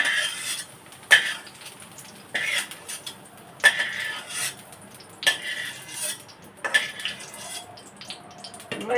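A spatula scrapes and clanks against a metal pan while frying carrots, in regular strokes roughly every second or so, with soft sizzling between them and no talking.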